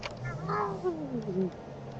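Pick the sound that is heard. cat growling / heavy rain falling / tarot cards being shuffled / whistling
cat growling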